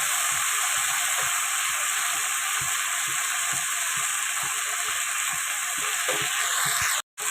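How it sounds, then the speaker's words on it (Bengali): Dried red chilli and whole cumin seeds tempering in hot oil for a Bengali dish give a close, steady sizzle with scattered small pops and crackles throughout, no voices. "একটা শুকনো লঙ্কা আর গোটা জিরে একটু ফোড়নে দিয়ে দিয়েছি, দিয়ে এবার এটা একটু ভাজা ভাজা করে নেব।"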